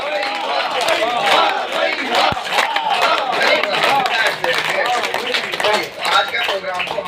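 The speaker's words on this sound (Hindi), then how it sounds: "एक बार ताली इनके लिए जोरदार बजाते हैं।" Loud, sustained clapping from a crowded audience at an outdoor yoga event in a park, a dense steady roar of hands with scattered voices mixed in throughout.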